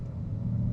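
Low, steady exhaust rumble from a 2018 Ford Mustang GT V8 with quad tips, its adjustable exhaust set to the open sport mode, heard idling briefly and continuously up close.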